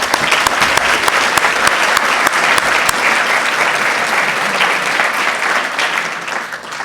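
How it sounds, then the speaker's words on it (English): A civic audience at a city State of the City event gives a loud, sustained round of applause for a local business award recipient, dense clapping that fades slightly toward the end. "a nice round of applause for Forest Lawn"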